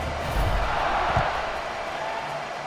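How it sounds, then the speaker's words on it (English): A stadium crowd buzzing in a college football video game, a steady roar of many voices with a couple of brief swells, heard at a distance. "this crowd is buzzing after that last score"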